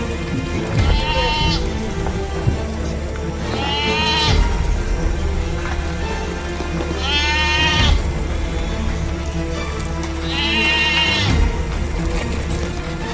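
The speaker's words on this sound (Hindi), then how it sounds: "हवा में बकरियों की चीखें गूंज उठीं" Several goats bleat loudly in panic on a farm, with four long, wavering cries spaced a few seconds apart over a steady rumbling background.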